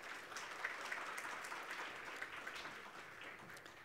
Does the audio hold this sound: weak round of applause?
yes